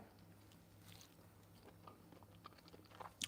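Someone chews gritty guava flesh up close, soft irregular crunches and wet mastication sounds that are quiet but distinct, building to a sharper bite near the end, with no talking.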